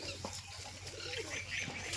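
Pet pigeons at bath time give soft coos and clucks over a steady low hum and background noise, fairly faint throughout.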